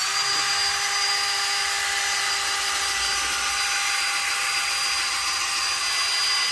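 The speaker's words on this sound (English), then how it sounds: "I've just drilled that" Steady high-pitched whine of a power drill working on a Mercedes brake caliper in a garage, continuous and moderately loud with a thin metallic edge and no talk.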